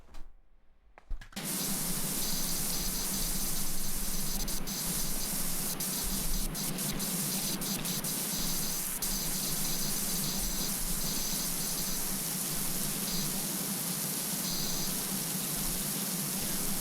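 Steady pressure-washer spray from a rotating precise nozzle in PowerWash Simulator 2, a continuous hissing rush of water that runs unbroken for most of the stretch, loud and close, after a brief quiet start.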